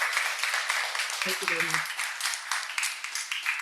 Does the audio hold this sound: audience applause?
yes